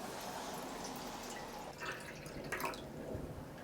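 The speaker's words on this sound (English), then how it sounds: "I'm gonna put about 2 cups of water in this" About two cups of water pour into a cordless heated lunch box, a faint liquid splash and trickle with a couple of brief louder gurgles near the end.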